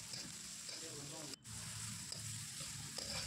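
Chopped onion and green chillies fry with cumin in mustard oil in a kadhai, giving a steady, close, fairly faint sizzle that holds through with one brief dip.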